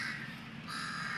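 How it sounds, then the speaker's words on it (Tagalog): Crows in Lumpini Park, Bangkok, caw from close by, two harsh calls in quick succession with no talk over them. "Kaya dinumog ito ng mga uwak"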